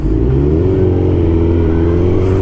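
A Suzuki GSX-1000 K2, an older big-bore motorcycle, revs up close and loud, its engine note rising steadily and holding under load across the whole stretch.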